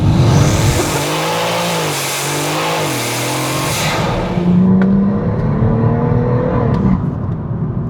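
Tuned 630bhp BMW M140i launching hard from second gear, engine note climbing through rising revs with a gear change and a loud, close roar that stays strong to the end.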